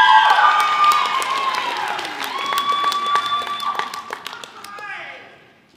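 Applause and cheering from an audience at a high school senior prizegiving, honouring a scholarship winner; dense clapping with a sustained tonal voice-like line over it, fading toward the end.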